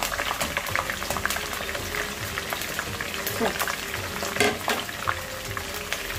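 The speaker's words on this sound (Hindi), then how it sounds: "यहाँ पे शिमला मिर्च भी मैं तल रही हूँ" Capsicum fries in hot oil in a pan, a loud and steady crackling sizzle with continuous spitting pops that runs unbroken from start to finish.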